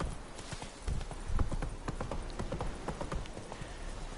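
A horse gallops in The Witcher 3 video game, its rapid, rhythmic hoofbeats thudding steadily at moderate volume with no talk over them.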